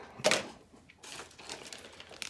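A big plastic packaging bag from an Articulated Icons custom 6-inch Cobra Storm Shadow white ninja action figure crinkles close up, starting with a sharp rustle and followed by softer, irregular crumpling.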